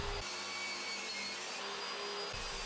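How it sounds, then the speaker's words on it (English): Power saw cutting plywood shelves to size, a steady loud machine whine running nearly continuously with a brief break at the start and end of the cut, no talk. "I started making the cuts to cut all of the shelves to size based on the dimensions from my drawing"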